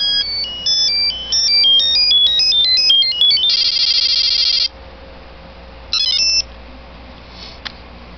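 Electronic beeping melody and a sustained siren-like tone from a Power Rangers Lightspeed Rescue Morpher toy in gunmetal gray, a rapid run of stepped synthetic notes, then a steady buzzing burst and a short later chirp, loud and close with no talk.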